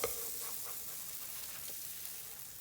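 Banana oatmeal pancakes cook in a pan with a soft, steady sizzle, faint and close, holding evenly with no voices over it.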